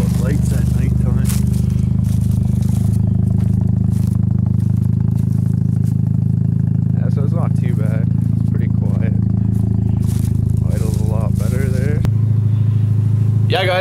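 A Mazda RX-7 FD3S rotary engine idles steadily outside at a slightly raised idle, a loud continuous low drone running throughout with someone talking over it.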